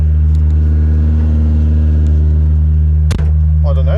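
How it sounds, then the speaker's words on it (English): A barn-find Ford Escort Mk2 on its first drive after decades, with a fuel can on the bonnet, gives a steady low engine drone from inside the car, with a brief knock and a short spoken remark near the end. "First drive with the fuel can on the bonnet."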